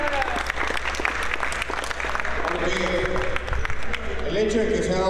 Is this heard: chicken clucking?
no